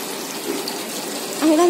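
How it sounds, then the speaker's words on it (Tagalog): Water flows down the wall of a waterfall feature at a koi fish pond aquarium in a hospital, a steady splashing rush heard close by, growing slightly louder near the end. "Umaagos yung tubig dyan. Para siyang ano, falls."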